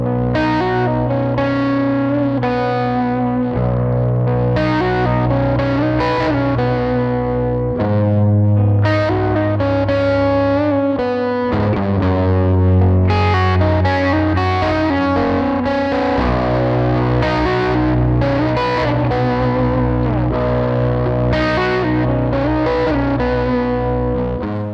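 Electric guitar played through a Universal Audio OX with stereo delay and plate reverb, heard as a continuous, loud, distorted chordal part with echoing repeats and a wide reverberant tail.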